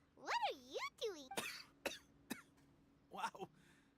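A character coughs in Genshin Impact, a short run of several sharp coughs and throat-clearing bursts, close and clear, mixed with brief voiced vocal sounds from the character.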